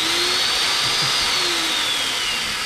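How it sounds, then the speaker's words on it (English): A throatless metal shear powered from AC mains runs with a loud, steady mechanical whine and hum as its blade moves up and down against a fixed blade, close and continuous with no talking. "Basically works by this blade here going up and down against this other blade here."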